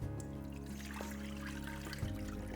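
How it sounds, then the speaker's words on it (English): Rinse water is poured off millet through a strainer, a continuous close trickle and splatter over a steady low hum, with no talking. "here to make sure I catch all the millet as I'm pouring it out"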